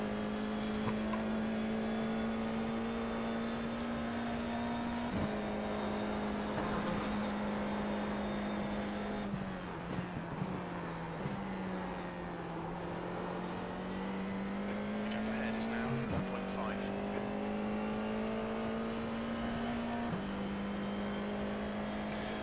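Race car at speed on track: a steady, loud engine drone that holds a sustained pitch with small shifts and dips as the driver works through corners. It runs continuously and stays close, with a faint voice underneath.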